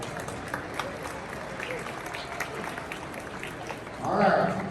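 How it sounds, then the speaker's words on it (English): Light applause at a WSOP poker tournament on the Fourth of July, scattered claps from the room in the background, with a voice rising briefly near the end. "Yes, you can clap for that."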